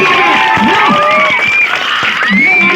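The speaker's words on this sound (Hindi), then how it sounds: "जोरदार ताली होनी चाहिए" An excited audience at a live demonstration breaks into loud, close applause, cheering and whooping, with children's high voices and shouts rising over the clapping throughout.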